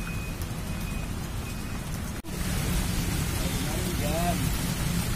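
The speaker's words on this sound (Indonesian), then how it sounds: "Hujan nih jadi ini." Steady rain pours down outdoors along a riverside park path, a dense even hiss of drops on surfaces, with a brief dip partway through and faint voices underneath.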